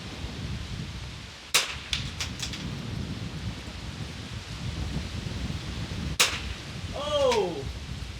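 Two sharp rifle shots crack out several seconds apart at an outdoor NRL22 rimfire match, each with a quick ringing tail, over steady wind and rustling, and a voice is heard briefly near the end.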